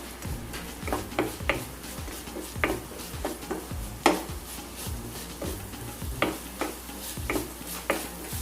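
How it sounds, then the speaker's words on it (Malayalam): Carrot, onion and garlic sautéing in hot oil in a pan for egg noodles, with a steady sizzle broken by repeated stirring scrapes and taps of a utensil against the pan, close and fairly loud, with no talking. "അതിലേക്ക് നമ്മൾ അരിഞ്ഞു വെച്ച ക്യാരറ്റ്, സവോള, വെളുത്തുള്ളി ഇത് ചേർത്ത് കൊടുക്കാം. ഇനി ഇതൊന്ന് വഴറ്റിയെടുക്കാം."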